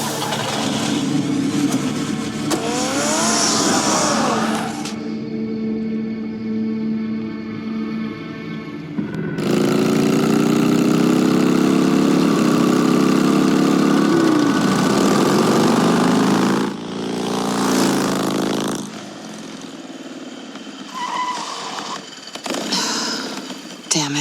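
A car engine runs steadily in the Batman Telltale video game, a loud continuous rumble that swells and shifts in pitch partway through, with a lull near the middle and game sounds mixed in near the end.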